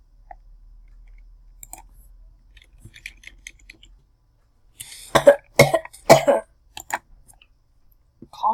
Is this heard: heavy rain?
no